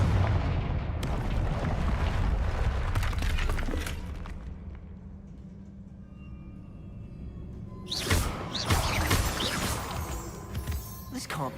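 Confringo fire-blast spell in Hogwarts Legacy: a burst of blasts around the start, then a quieter stretch, and a loud crashing explosion near the end over game ambience.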